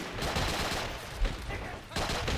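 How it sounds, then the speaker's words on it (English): A grenade blast in the game Men of War: Assault Squad 2, a dense, noisy burst of explosion and crackling battle din filling the short span, with a sharp peak midway. "So it looks like he cooked that grenade there, that's why it exploded right away."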